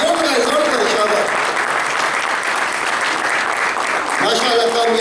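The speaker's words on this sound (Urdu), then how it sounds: "1 منٹ لگاتار تالیاں امجد صاحب اور انور مسعود صاحب کے لیے کیسے بجائی جاتی ہیں" Audience at a mushaira applauds in a loud, dense, sustained wash of clapping with a few voices mixed in, steady throughout.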